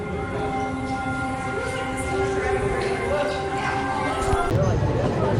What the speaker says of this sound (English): Disneyland Railroad.